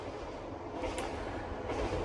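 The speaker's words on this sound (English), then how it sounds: "Just wait till that train goes." Train rolling past an allotment beside the track in Morecambe, a steady low rumble with rhythmic wheel clatter, fairly close and continuous, with no talk over it.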